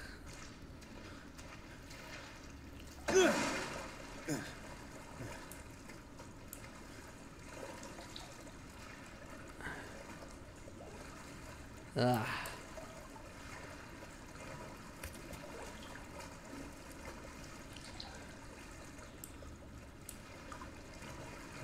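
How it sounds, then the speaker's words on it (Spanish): Wading through water in Resident Evil 7, with steady liquid trickling and two louder sloshing splashes several seconds apart, fairly quiet overall, with a brief groan from a voice. "Tengo que meter al agua."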